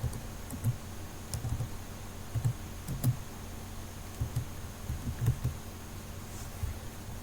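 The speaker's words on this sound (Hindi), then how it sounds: "अभी मैं आप लोगों के सामने टाइप कर रहा हूँ फेसबुक पेज।" Intermittent keystrokes on a computer keyboard while a Facebook page is being typed out, faint scattered clicks spaced irregularly over a steady low hum, with no speech.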